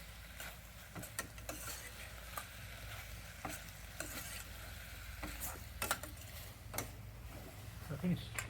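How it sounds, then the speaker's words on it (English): Brinjal (aubergine) deep frying in oil at a cooking class in Sri Lanka, a quiet continuous sizzle broken by repeated clicks and scrapes of stirring over a low background hum, with faint voices in the background. "Deep fry."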